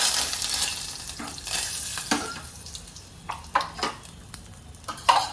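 Chillies tempering in hot oil for Gujarati dal dhokli, a soft crackling sizzle with stirring scrapes and a few sharper bursts, fairly close and quiet, with no talk.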